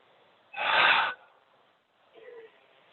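A qigong circle breath exercise: one long, forceful breath lasting about half a second, close and loud, followed after a pause by a softer, shorter breath, with no talking.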